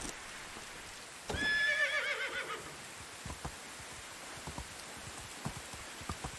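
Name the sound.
horse neighing in Medieval Dynasty video game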